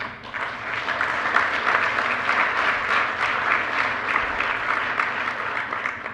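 A crowd applauds steadily at a conference close, a dense wash of clapping that holds at an even level throughout.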